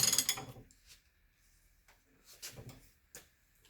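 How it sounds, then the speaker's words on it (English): Large wrench worked on the front suspension of a 1984 Mercedes 300SD W126: a few faint metallic clicks and ratcheting clunks, sparse and irregular, in a quiet garage. "we've got the big wrench out here, so let's see what we can do here."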